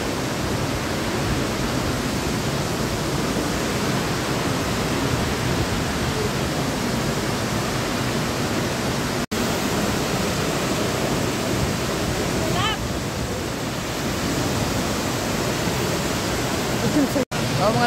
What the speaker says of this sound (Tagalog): Nasa Falls kami dito sa observatory.